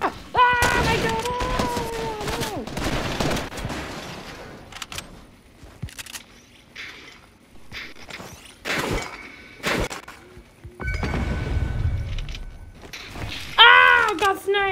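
Gunfire and a sniper shot in Fortnite: scattered sharp cracks and bursts in the game, with excited voices shouting in between.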